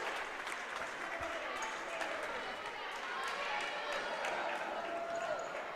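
Crowd noise at a varsity high school volleyball match after a serve, with church fans and a youth pastor in the stands cheering steadily across the gym amid shouts, squeaks and bouncing balls.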